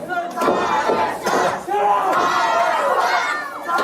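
A wrestling arena crowd roars loudly and continuously, with overlapping shouts and cheers swelling in waves and a brief dip midway before surging again.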